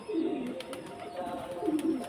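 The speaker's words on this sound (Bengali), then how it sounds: "কত বড় সাইজের পায়রা দেখো" Large pigeons coo softly nearby in two rolling phrases, one at the start and one near the end, over quiet background noise.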